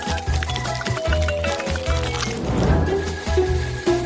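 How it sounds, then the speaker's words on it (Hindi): A drink is poured into a glass, a close gurgling, glugging stream with bubbly splashes that carries on steadily, with no talk. "अब इसे एक ग्लास में डालेंगे।"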